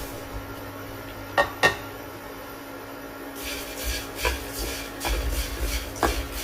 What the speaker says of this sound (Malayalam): ആദ്യം ഈ ചെമ്മീനൊന്ന് ഡ്രൈ റോസ്റ്റ് ചെയ്തെടുക്കണം.